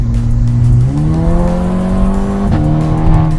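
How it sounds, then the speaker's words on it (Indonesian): A car in manual mode revs hard and accelerates close up, its engine note climbing steadily through a gear, dipping briefly at a shift, then pulling up again, loud and with no talking. "Masih bisa lebih kenceng mobil gua."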